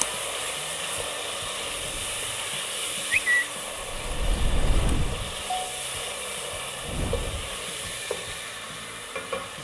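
Masala frying in a pan for chicken malai handi gives a steady, soft sizzle with scraping stirs, swelling into a louder burst midway before settling back to a low hiss, with no voices.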